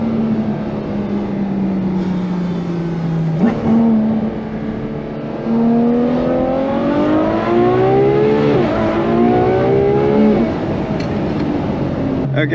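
A Ferrari F12 TDF with 780 horsepower accelerates hard on the road, its engine note climbing in pitch through gears with brief drops at the shifts, loud and close from inside the car.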